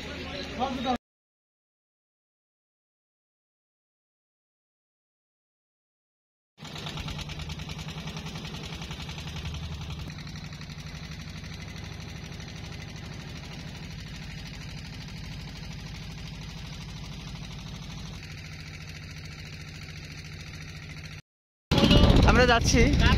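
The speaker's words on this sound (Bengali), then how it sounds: "একটা নৌকা ছেড়ে যাচ্ছে, ইঞ্জিন চালিত নৌকা" An engine-powered boat departs on the Jamuna River, its motor droning steadily at mid distance, a low rumbling hum with some knocking, interrupted by stretches of silence.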